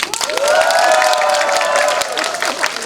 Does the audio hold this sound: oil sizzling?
no